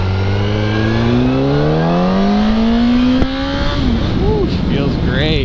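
A motorcycle engine revs up in rising, climbing pitch while on the move, then drops back and wavers near the end, loud and close, with wind rush and talking mixed in.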